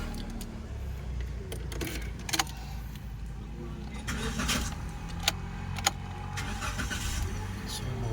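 A secondhand car's engine is started with its key, cranking and then settling into a low, steady idle, with a few sharp clicks and faint jangles around it.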